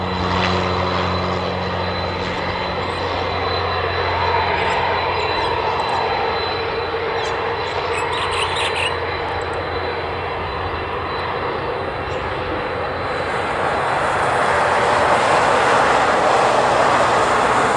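An airliner arriving at Honolulu airport, a sustained jet engine roar that holds steady then swells louder toward the end, with a faint high whine and no talk.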